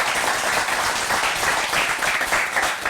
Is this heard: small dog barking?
no